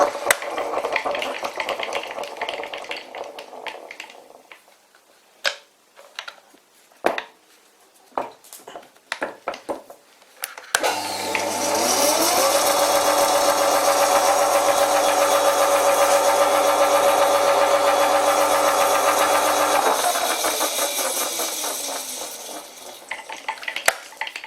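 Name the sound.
old WW2 Fischer lathe running in gear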